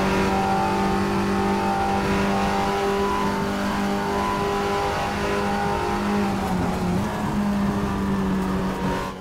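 Race cars in the Raceroom racing game roar loud and steady through a corner, engines revving with sustained tonal whine and one car's pitch dipping and recovering, continuous throughout without talk.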